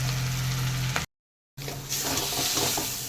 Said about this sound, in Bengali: এবারে কচু শাকটা দিয়ে খুব ভালো করে শুকনো শুকনো করে নেবো আরও